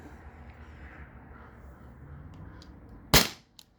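A single sharp shot from a modded T4E HDP50 launcher running on a 20 oz CO2 tank, a loud close crack with a quick hiss tail after a stretch of quiet room noise.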